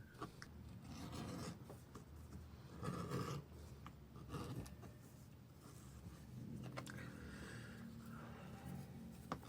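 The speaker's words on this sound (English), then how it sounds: "bevel the edges with my edge beveler to make that all nice and smooth" An edge beveler rasps along the edges of a leather bracelet in steady, close scraping strokes, with short louder pushes and no talking.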